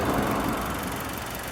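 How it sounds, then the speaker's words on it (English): A Seat Leon 1.4 TFSI petrol engine idles with engine flush added before an oil change, giving a steady, continuous low rumble close by with no talk over it. "Whilst we wait for the car to idle with the engine flush inside it"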